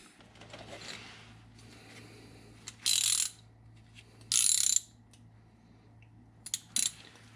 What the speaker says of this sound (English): so just take your 12mm socket, crack that loose